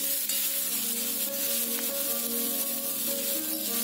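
Purslane stirred with salt and turmeric in a hot pan gives a steady, close sizzling and scraping hiss that runs unbroken throughout, with faint sustained tones beneath.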